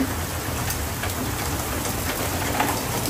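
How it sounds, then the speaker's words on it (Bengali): Heavy rain pouring down steadily, a dense, continuous hiss of drops on surfaces with a low rumble beneath, loud and unbroken throughout with no voices. "ভালো জোরেই বৃষ্টি শুরু হয়ে গেল"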